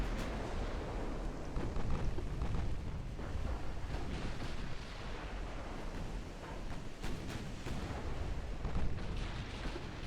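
Torpedoes launching from a warship in the naval combat game Ultimate Admiral Dreadnoughts, a dense rumbling roar of booms and bursts that runs steadily through the whole stretch.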